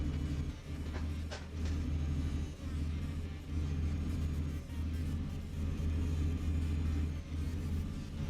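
A heavy truck engine in Euro Truck Simulator 2 labours up a steep hill in 6th gear, a steady low droning rumble with slight dips and surges throughout.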